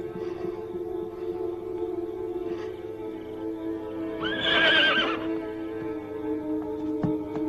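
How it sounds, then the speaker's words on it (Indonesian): A horse neighs in a period drama set in Majapahit: a single loud, close whinny in the middle, over a steady humming background with a few faint clip-clop knocks. "Kuda itu sudah menunggumu."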